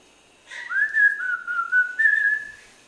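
A person whistles a short melodic tune, clear and close, with gliding notes held in a couple of phrases and no talking.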